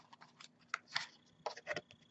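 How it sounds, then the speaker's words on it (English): A deck of tarot cards is shuffled nearby, giving soft papery flicks and crisp clicking riffles in short irregular bursts over a quiet background. "As I shuffle the deck"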